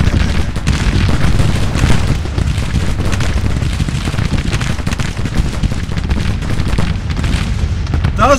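Skirmishers in a Civil War strategy game fire their muskets in a dense, crackling barrage mixed with booming reports, loud and sustained throughout with no talk.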